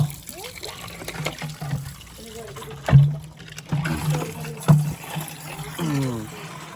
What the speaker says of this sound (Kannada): ನೀರು ಹಿಡ್ಕೊಡ್ತಾಯಿದ್ದೀನಿ ಕುಡಿಯೋಕ್ಕೆ